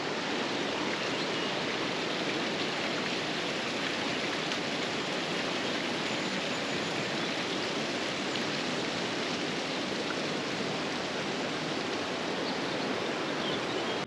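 A river flows beside a walking path near a campsite in the Elan Valley, Wales, giving a steady, close rushing wash of water that holds constant throughout with no voices.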